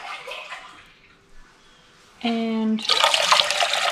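Water poured into a cooking pan for homemade elderberry syrup, a short steady splashing pour that rises in pitch as the pan fills, followed by louder rushing water, with a voice speaking briefly beforehand.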